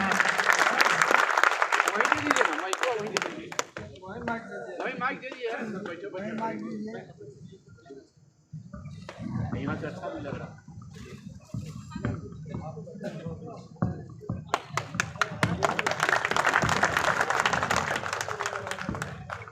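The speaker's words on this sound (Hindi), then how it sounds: "एक बार जोरदार तालियों के साथ" Loud applause from an audience at an advocates' protest gathering at Patna High Court, welcoming a speaker; broadband clapping opens strongly, dips as a voice talks through the middle, then swells again near the end.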